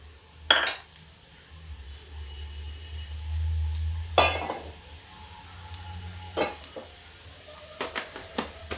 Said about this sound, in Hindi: अब इसमें हम तड़का लगाएंगे अपनी कढ़ी में।